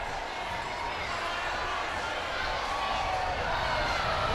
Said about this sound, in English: Just listen into the crowd.